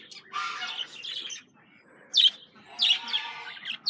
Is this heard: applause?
no